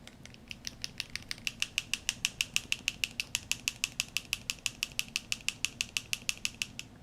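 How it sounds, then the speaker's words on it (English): A steel agitator ball rattles inside a shaken bottle of miniature paint, a fast, even run of sharp metallic clicks up close, each knock landing against alternate sides of the bottle. "notice how you can hear the metal hitting both sides of the bottle"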